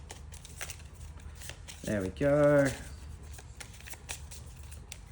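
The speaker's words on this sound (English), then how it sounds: "So let's give that a quick little shuffle." A deck of game cards for the Disney Villainous tabletop game is riffled in one quick, close burst of about a second, with a person talking before and after.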